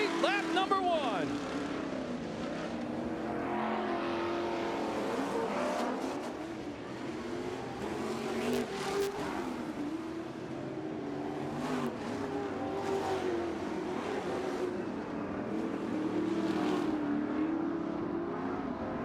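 Off-road race trucks roar around a muddy TORC Sportsman track in Chicago, engines droning and revving continuously at moderate distance while a commentator talks over them.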